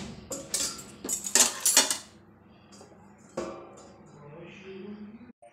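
A metal plate of coconut cookies is set into a kadhai and covered with a lid, producing a cluster of close metallic clinks and scrapes followed by a softer clank, with quiet speech afterward.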